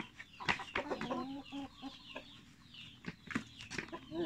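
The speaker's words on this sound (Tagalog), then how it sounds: "Yung roster natin mga farmers na manok o," A Barred Plymouth Rock heritage rooster clucks on a farm, giving a few short low calls and chattering notes. The calls are fairly faint, with other fowl and quiet background sounds around them.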